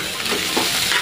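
Nasi goreng fried rice with bakso being stirred and tossed in a hot pan, a steady close scraping and sizzling with soft rhythmic swishes throughout.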